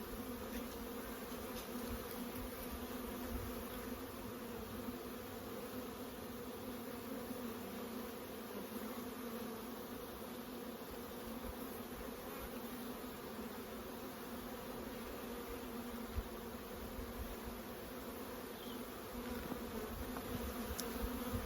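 A mass of honeybees buzzes at the hive, a dense, steady droning hum that stays even and fairly close throughout with no voices.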